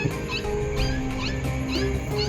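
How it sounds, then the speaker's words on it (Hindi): A dog whimpers and yips in a forest at night, with a rapid series of short, high, thin cries repeating close by over a low background hum. "कुत्ता जवाब दे रहा है भाई।"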